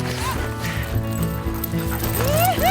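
Sled dogs bark, yip and whine loudly during a dog sled ride in northwest Montana, a busy chorus of several dogs close by over constant rushing motion noise.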